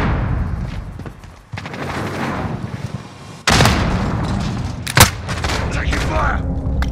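Gunfire and sharp impacts in a Call of Duty: Modern Warfare match, loud bursts with a sudden heavy crack midway, under game voice callouts.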